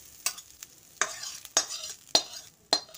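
Fried onions being stirred into boiled khesari greens, five sharp scraping strokes of a spoon against the pan at a steady rhythm, with a soft sizzle between them and no talking.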